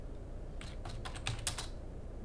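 Quick run of computer keyboard keystrokes, about eight light taps in rapid succession, entering a ping command in a command prompt; close and quiet, with no one speaking.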